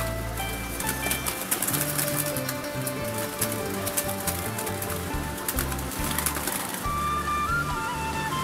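Doves coo during a net-trapping outing for doves in Nhị Bình, Hóc Môn, a repeated low cooing under steady outdoor noise that sounds like light rain or rustling.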